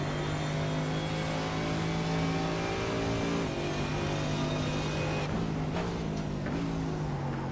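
Race car engine on the Mid-Ohio circuit in a sim racing game, droning steadily at high revs as it climbs through the gears to top gear on the back straight, with brief dips at each shift.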